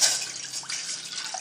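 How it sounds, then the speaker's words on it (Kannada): Water pours into a kitchen vessel in preparation for gulab jamun, a brief, steady splashing trickle heard close by and alone. "ಮೊದಲು ಒಂದು ಪಾತ್ರೆ ತೊಗೊಂಡು ನೀರು ಹಾಕ್ತಾ ಇದ್ದೀನಿ"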